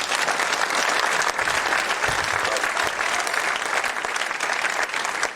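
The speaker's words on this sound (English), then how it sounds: "Give Matt another round of applause" Seminar audience applauding a young man named Matt, a broad, sustained wash of clapping from a large crowd, loud and unbroken from start to finish.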